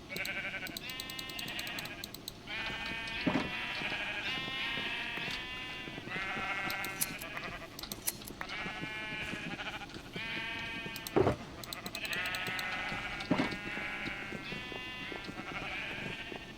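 Sheep in Minecraft bleat over and over in quavering, nasal cries, several overlapping calls repeating every second or two at moderate volume with no talk.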